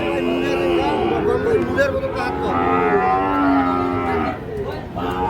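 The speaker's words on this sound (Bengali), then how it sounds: "সবই শাহিওয়াল ষাঁড় বাচ্চা।" Sahiwal bull calves moo repeatedly at the Ambari cattle market, with long, loud, drawn-out calls close by over steady crowd murmur while people talk.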